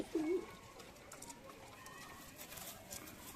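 A single soft coo from a male pigeon near the start, then a faint background hiss with distant murmurs.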